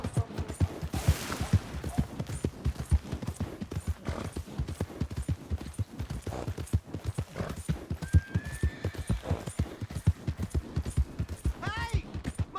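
A horse in Red Dead Redemption 2 gallops in a steady, close clip-clop rhythm of hoofbeats and lets out shrill neighs and whinnies near the middle and end.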